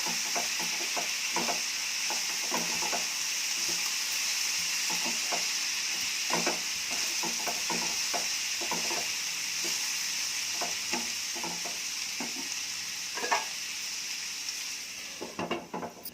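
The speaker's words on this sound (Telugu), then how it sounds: "అంతా ఒకసారి తిప్పుదాము." Saagu curry frying in a pan with turmeric and coriander powder, a constant loud sizzle broken by many short scrapes and knocks of a spoon stirring through it.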